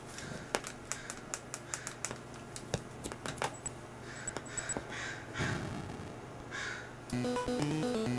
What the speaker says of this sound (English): Crows outside.